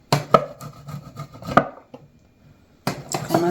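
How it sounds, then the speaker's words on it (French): Food rubbed against a hand grater, giving a few sharp scraping strokes with a quiet pause between bursts, close and fairly loud. "Je commence à râper."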